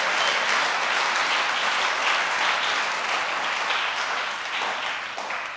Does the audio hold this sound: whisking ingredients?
no